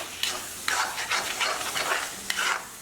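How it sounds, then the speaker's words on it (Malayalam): Crushed tomatoes are stirred in an iron pan, giving a steady sizzle with several scraping strokes of the spoon close by and no talking. "നമ്മൾ ഈ ക്രഷ് ചെയ്ത് വെച്ചിരിക്കുന്ന ടൊമാറ്റോ ഇട്ട് ഇളക്കി കൊടുക്കാം."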